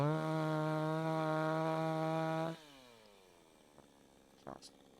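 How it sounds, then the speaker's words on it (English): A steady, buzzing chainsaw drone runs for a couple of seconds, then cuts off abruptly, leaving near silence with a few faint clicks. "So I've got another chainsaw here because I like the chainsaw."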